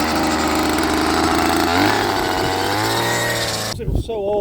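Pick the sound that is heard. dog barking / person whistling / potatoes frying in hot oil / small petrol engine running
small petrol engine running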